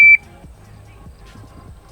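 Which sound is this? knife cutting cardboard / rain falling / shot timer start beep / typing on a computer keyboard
shot timer start beep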